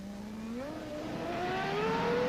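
A 1992 Formula 1 car engine in practice at the Japanese Grand Prix runs with traction control cutting cylinders, giving a flat, buzzing note that climbs steadily in pitch as the car accelerates, loud and continuous.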